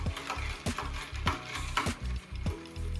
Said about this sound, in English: You might be able to hear the sugar at the bottom